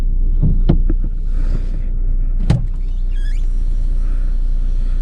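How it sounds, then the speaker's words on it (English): Saab 9-5 with automatic transmission idling while parked, a steady close low engine rumble throughout, with a few sharp clunks and a brief whirring mechanical sound partway through, no talk. "You've got to leave the car running while you check it."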